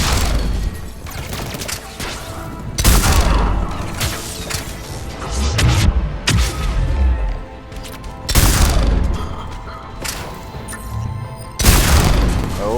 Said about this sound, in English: I'm running out of ammo for my super shotgun.